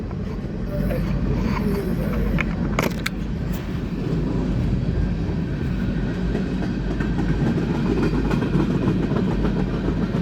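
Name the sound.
train riding on rails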